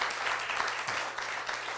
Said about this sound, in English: And a round of applause again.